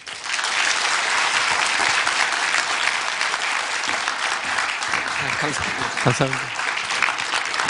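Loud, dense applause from a lecture audience at a Busan District Court continuing-education talk, filling the room steadily before a voice briefly speaks over it near the end.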